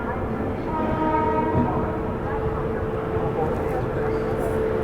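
Bihar Sampark Kranti express train running on rails, a steady loud rumble with tonal horn-like drones throughout, heard from on board while overtaking another train, with some voice mixed in.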